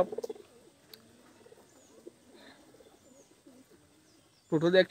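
Pigeons cooing indoors in a room housing around a hundred birds, soft low coos scattered through a quiet stretch with a louder close coo burst at the end and faint chirps.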